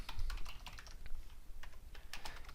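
Quick bursts of typing on a computer keyboard, a close run of crisp key clicks with brief pauses, as a database query clause is entered for an ASP.NET project.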